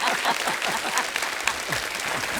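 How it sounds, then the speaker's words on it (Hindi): Loud, dense applause from an audience at a Bollywood film promotion event for Satyaprem Ki Katha, with Kiara Advani present, fills the whole stretch as a steady wash of many hands clapping at once, with a few sharper claps standing out. "अनुराधा जी को एक बार जोरदार तालियां हो जाए"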